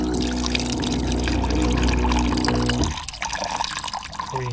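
Water runs steadily into a saucepan, a close continuous pouring stream that cuts off about three seconds in, leaving faint trickles and drips.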